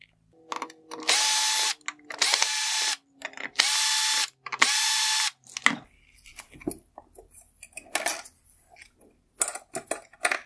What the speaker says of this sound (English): Next, I'll remove the four screws holding on the bottom swivel motor.